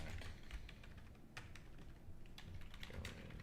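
Keys clatter in steady irregular bursts of typing on a keyboard in a writers' room during a 48-hour film project, close and continuous with a low room hum beneath and no voices.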